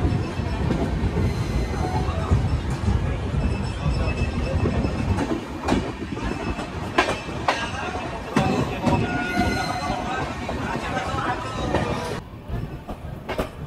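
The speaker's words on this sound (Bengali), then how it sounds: "তো 3 মিনিট মতো দাঁড়িয়ে ট্রেন আমাদের বেরিয়ে চললো কিষানগঞ্জ স্টেশন থেকে।" Darjeeling Mail passenger train pulling out of Kishanganj station, heard from aboard: a steady rolling rumble with occasional wheel squeals and clanks, fairly loud and continuous, with some voices in the background.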